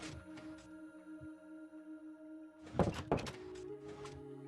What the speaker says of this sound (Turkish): Dur ben sana kapıyı açayım.